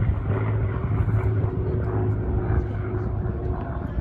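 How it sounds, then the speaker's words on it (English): A P-51 Mustang propeller warbird at an air show, its piston engine running with a loud, rough low-pitched drone and steady throb, heard close and continuous for several seconds. "P-51 Mustang's about to start up, folks."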